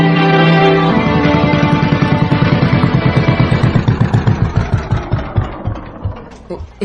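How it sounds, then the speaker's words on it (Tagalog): A fishing boat's motorboat engine chugs in a steady rhythm, then slows and sputters with uneven beats until it cuts out near the end. "Nagka-problema man ang makina sa pambot. Patay-patay man ang andar."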